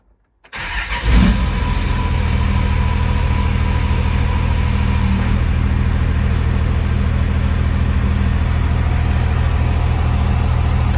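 A Cummins VP44 diesel engine running a Quadzilla tune cranks and fires after a brief silence, then settles into a loud, steady, low rumbling idle that holds for the rest of the stretch with no talking.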